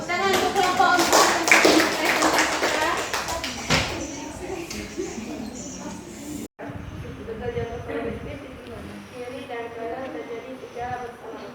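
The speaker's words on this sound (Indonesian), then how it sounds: "Tepuk tangan untuk kelompok 4." Classroom students clap for a presenting group, a burst of hand claps in the first few seconds, then children's chatter and voices fill the room afterward.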